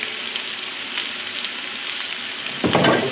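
Olive oil sizzles in a hot cast iron skillet with a steady bright hiss, swelling into a louder crackling burst near the end.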